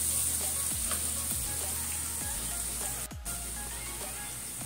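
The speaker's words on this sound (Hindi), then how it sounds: "तो मैंने ये प्याज दो ली हैं बड़ी साइज की, इसको मैं ब्राउन करके निकाल लूँगी" Two large onions browning in a pan for degi chicken korma, a steady close sizzle with regular low stirring thumps about every second and one brief dropout near the end.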